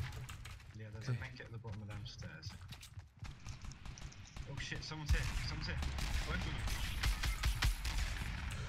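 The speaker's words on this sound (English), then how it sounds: "Someone's shooting." Rapid bursts of gunfire in a Fortnite match crackle through the round, sharp repeated shots mixed with keyboard clatter and game effects, while players talk excitedly over it.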